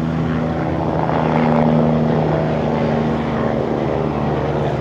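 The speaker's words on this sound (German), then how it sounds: "Oh, ein Hubschrauber, aber direkt über uns." A helicopter passes directly overhead near the Hamburg harbour, its loud, steady rotor drone filling the scene and swelling slightly at mid-pass before holding on, with no talk over it.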